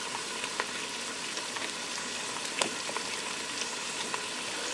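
Beef nacho bake mixture crackles in a Ninja Foodi, a steady, fairly quiet sizzle with scattered small pops and scraping stir clicks throughout, no voices.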